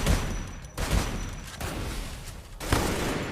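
Gunfire in the video game Free Fire during a ranked squad match: a steady stream of shots runs through the whole stretch, with a few heavier bursts standing out, fairly close and loud, and no talking.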